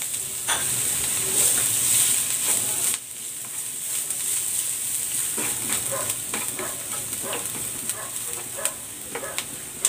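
Garlic and onions sauté in a hot pan for Sprite braised pork ribs, giving a loud, steady sizzle with stirring scrapes. The sizzle drops briefly after a few seconds, then continues.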